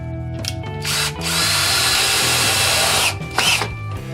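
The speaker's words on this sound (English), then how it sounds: "And I go ahead and put screws in as well." A power drill whirs in short bursts, then runs longer as a screw is driven into a wooden train layout fascia board, stopping and starting again close by.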